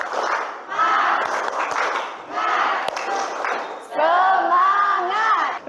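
Students in an Indonesian language class shout a rhythmic spirit chant with claps, their voices rising together in three loud unison bursts separated by brief pauses.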